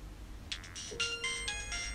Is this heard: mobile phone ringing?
yes